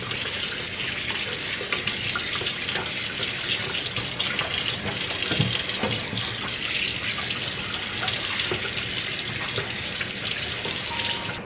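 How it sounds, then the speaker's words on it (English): A kitchen tap runs continuously while raw lamb chops are rinsed under it, a loud, steady rush of splashing water with no pauses. "Just gonna give them a quick little rinse off."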